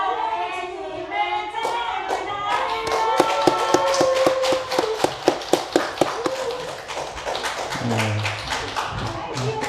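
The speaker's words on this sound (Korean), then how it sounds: "이렇게 박수를 올리겠습니다." Congregation clapping during a Sunday church service, rhythmic claps picking up in the middle amid music and voices, then fading as someone speaks near the end.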